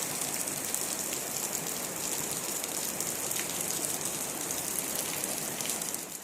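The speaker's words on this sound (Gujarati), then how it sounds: "આજે પણ વહેલા વહેલા વરસાદ ચાલુ થઈ ગયો છે" Early-morning rain falls in a continuous, moderately soft hiss, even and unbroken, with no voices over it.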